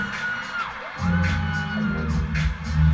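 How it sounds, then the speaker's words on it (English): A concert crowd at a performance cheers and whoops loudly, with high yells rising over a continuous roar that swells after the first second. "You hear the response from the crowd?"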